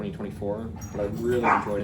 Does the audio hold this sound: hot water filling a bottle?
no